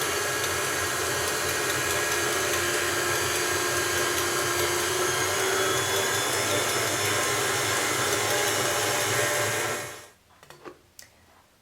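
An electric mixer whirs steadily through pumpkin spice cake batter with dry ingredients, a loud continuous motor drone held for about ten seconds before it switches off, followed by a few faint clinks.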